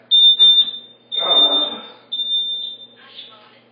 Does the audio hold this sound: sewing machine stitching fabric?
no